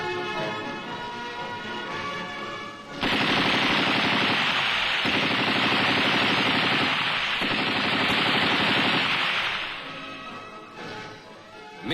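An experimental lightweight air-cooled machine gun fires a long, loud, close sustained burst of about six seconds, with brief breaks, after a quieter stretch of background noise; no voices.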